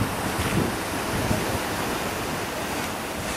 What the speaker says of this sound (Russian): Лютый север, и волны стучатся в берег.